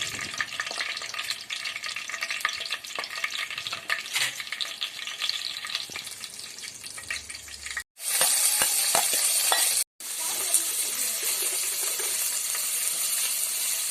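Mustard seeds crackle and sizzle in two spoons of hot oil for a bisi bele bath tempering, a loud, steady frying hiss with a brief drop partway and no talk.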